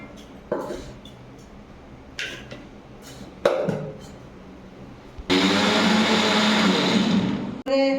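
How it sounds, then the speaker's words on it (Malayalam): A kitchen mixer grinder whirs loudly and steadily for a few seconds as it grinds drumstick leaves with rice flour, after some scattered clinks and knocks and before a brief pause. "ഗ്രേറ്റ് ചെയ്ത മിക്സിയിലിട്ട് ഒന്ന് കറക്കി"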